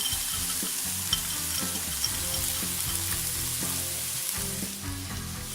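Potatoes and onions sautéing in a cast iron skillet, giving a loud, continuous sizzle with occasional stirring scrapes and clicks, close by and with no voices.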